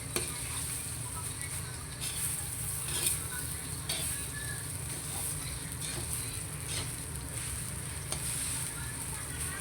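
Milkfish (bangus) fries in hot oil, a steady close sizzle with faint crackles and occasional utensil taps running continuously throughout.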